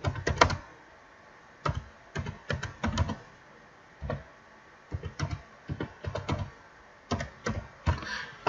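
Someone types text on a computer keyboard while working on text in Photoshop, giving irregular bursts of close, crisp key clicks separated by short pauses, with no talking.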